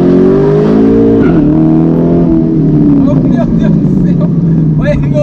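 A Corvette engine roars loudly and continuously, its pitch climbing then easing as it accelerates, heard from inside the car.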